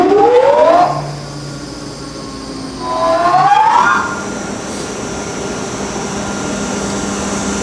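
A Parker PGP031 hydraulic gear pump running on a test bench, its pitch sweeping upward as it spins up, dropping away, then rising again before settling into a steady mechanical whine and hum.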